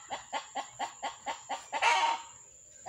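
Repeated clucking and quacking calls in a quick rhythmic series, about eight evenly spaced calls followed by a louder, noisier burst, from waterfowl at a lake with a mother duck, ducklings and wild ducks around, fairly close with no talking.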